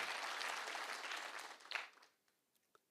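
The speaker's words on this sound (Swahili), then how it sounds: "Na makofi imeenda wapi?" An audience at a public security forum in Kakamega County claps in a dense burst that fades out after about two seconds, leaving a few scattered final claps.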